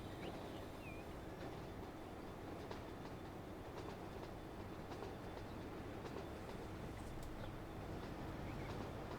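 A freight train in the video game Transport Fever 2 rumbles steadily throughout, with a broad continuous roar and faint rhythmic clatter of wheels on track, no voices present.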